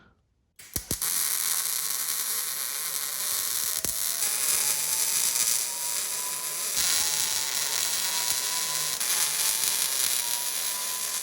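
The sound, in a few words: hole saw drilling metal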